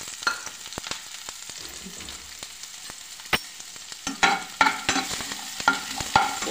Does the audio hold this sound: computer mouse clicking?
no